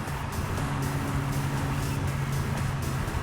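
Steady, close drone of a Mazda FD RX-7 rotary engine running on a dyno, holding a constant pitch with a buzzy low hum and no speech.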